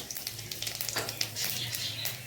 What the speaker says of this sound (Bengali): কড়াইতে তেল গরম হয়ে গেছে, তেলে প্রথমে দিয়ে দেবো 5 ফোড়ন